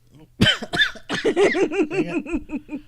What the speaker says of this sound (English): I've been fighting that cough the whole time